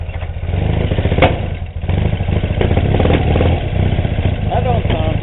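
An engine with bad timing idles loud and close in a rough, uneven chug, with a few thumps and clatters through it and voices talking over it.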